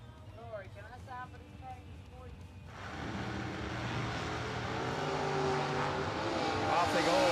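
Drag racing cars, one of them a Corvette Roadster, launch off the line at a bracket race. A loud, rising engine roar swells abruptly and builds steadily under an announcer's commentary.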